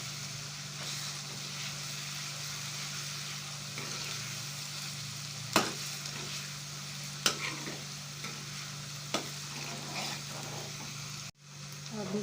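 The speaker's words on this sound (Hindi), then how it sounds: "प्याज को हल्का हल्का ब्राउन होने देंगे।" Onions sizzling and browning in a pan for karahi gosht, a steady close frying hiss with a few stirring scrapes and clicks, then a brief drop near the end.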